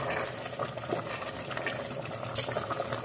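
Chicken broth (canja de galinha) simmering uncovered in an open pot after pressure cooking, a steady soft bubbling and gurgling texture throughout, moderately close with no talking.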